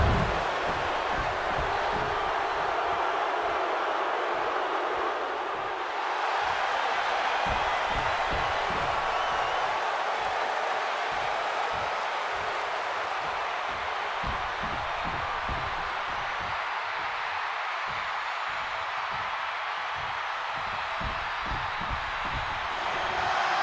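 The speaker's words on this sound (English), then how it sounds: "And this capacity crowd just exploded." A capacity crowd cheering in the WWE 2K26 wrestling video game, a sustained roar of voices with rapid rhythmic clapping or stomping pulses running underneath, loud and continuous throughout.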